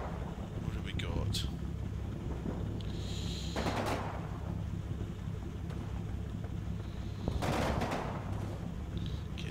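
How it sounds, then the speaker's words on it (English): A tank fires during a World War II battle at Aachen in the strategy game Combat Mission, giving two distant, muffled booms a few seconds apart over a constant low rumble of battlefield ambience. "so that's a tank firing roughly at them"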